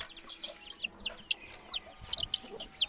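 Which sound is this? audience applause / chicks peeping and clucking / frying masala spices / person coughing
chicks peeping and clucking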